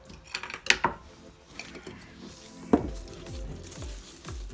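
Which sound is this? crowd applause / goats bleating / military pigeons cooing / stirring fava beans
stirring fava beans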